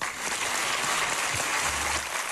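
Employees applaud Sílvio Santos at the SBT 30th anniversary celebrations, a continuous, dense wash of clapping from a large group that holds steady from start to finish.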